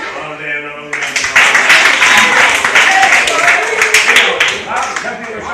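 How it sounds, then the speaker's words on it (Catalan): A group of children in a workshop class breaks into applause after an adult voice speaks briefly at the start, loud clapping continuing densely to the end. "Molt bé, un aplaudiment."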